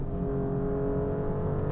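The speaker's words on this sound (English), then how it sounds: "I'm just downshifting and upshifting constantly between second and third gear, primarily for torque and for sound" An Alfa Romeo Giulia Quadrifoglio engine drones steadily at a fairly constant pitch as it is held between second and third gear, with a smooth, continuous roar and no pause.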